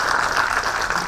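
An audience at a fintech conclave applauds in a steady, dense wash of clapping that stays even and moderately loud throughout a short stretch with no talk.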